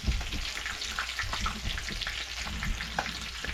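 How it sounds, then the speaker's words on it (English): Steady, dense sizzling of kole fish frying in hot oil, with crackling pops throughout and no voices. "So we're frying up the kole."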